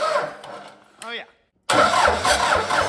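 A Cummins 4BT diesel engine cranks briefly, falls quiet, then catches and runs loudly with a steady rough rumble; a voice reacts under it.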